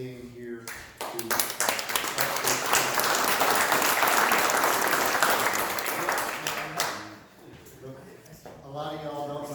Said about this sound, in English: I want to give a big round of applause for all the people that came here to